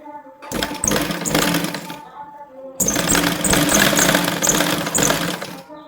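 Sewing machine stitching cutwork embroidery on a blouse, running in two loud sustained bursts with a brief pause between them, close by.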